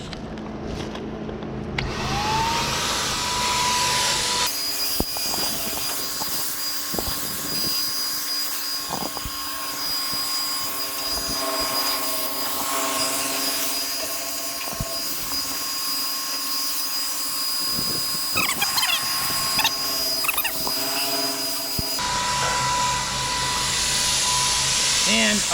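Paint sprayer turbine running steadily at high pitch with a whining hum, pressurizing the paint pot during an old trailer rebuild; continuous loud drone with a few clicks and handling knocks.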